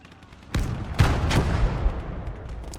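Gunfire strikes a tank's cannon in the WWII video game Gates of Hell: three heavy, sharp impacts land in quick succession over a dense, rumbling battle background.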